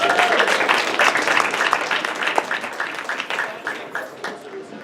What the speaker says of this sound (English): If we give a round of applause.